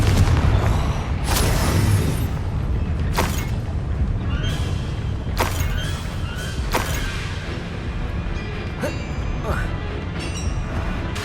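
Confringo blast spells fire repeatedly during a Hogwarts Legacy battle, several loud, sharp bangs spaced a second or two apart over dense, rumbling combat noise with voices mixed in.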